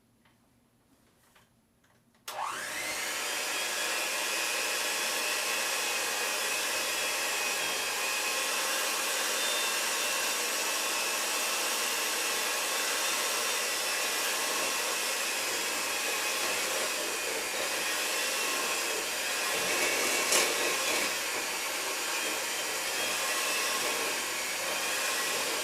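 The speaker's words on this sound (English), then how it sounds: "And then just put your mixer on low." An electric mixer switches on at low speed to cream butter and sugar for low gluten cookies, holding a loud, continuous whirring hum with a faint ticking rattle for over twenty seconds after a quiet start.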